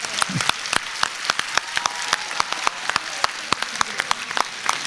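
An audience applauds with many hands clapping at a brisk, uneven pace, close and fairly loud, sustained without speech.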